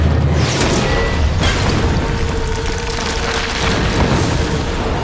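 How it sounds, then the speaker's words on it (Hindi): Cartoon grenade explosion: a loud booming blast that opens the clip, followed by a sustained roaring rumble and debris-like noise that stays dense and loud throughout. "Grenade!"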